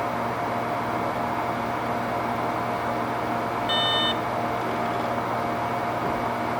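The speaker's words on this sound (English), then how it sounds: "So there's the beep" A single short electronic beep sounds as a 3.5-inch 15,000 RPM Hitachi server drive starts up, faint and brief against the loud, steady roar of server fans.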